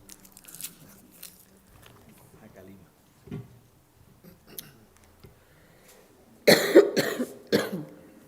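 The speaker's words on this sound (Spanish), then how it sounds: "Llevo todo el día sin toser, esto es alérgica, ¿eh?" Quiet clicks and shuffling, then a burst of several harsh coughs close to the microphone near the end.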